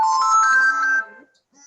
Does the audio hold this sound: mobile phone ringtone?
yes